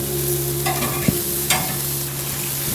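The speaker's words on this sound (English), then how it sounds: "Listen to that sizzle." Steady crackling sizzle of beef patties frying on a hot barbecue grill, close and continuous, with a couple of brief scraping clinks.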